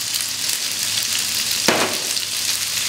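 Spaghetti with seafood being stir-fried in a pan, a steady loud sizzle with a brief scrape of stirring partway through, no talking.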